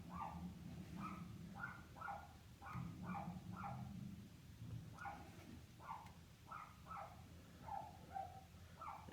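Several dogs bark in short repeated bursts somewhere in the background, moderately far off, over a low steady rumble of room noise.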